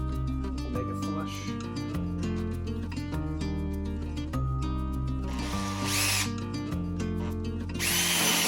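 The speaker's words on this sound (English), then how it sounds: "Now we need to drill." A power drill bores into a wooden cabinet during a cabinet retrofit, giving a steady close whirring drone with louder grinding surges near the end.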